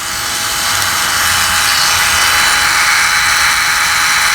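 A rotary tool grinds along the bevel of a hedge trimmer blade with a steady, loud, high-pitched whine that holds constant throughout.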